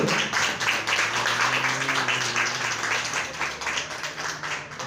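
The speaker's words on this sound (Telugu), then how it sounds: "చప్పట్లు చప్పట్లు అందరూ" Church congregation clapping together at a gift presentation, a steady, dense applause sustained throughout at moderate level in a reverberant hall, with a faint voice murmuring underneath.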